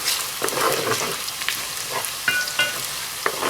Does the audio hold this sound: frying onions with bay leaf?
yes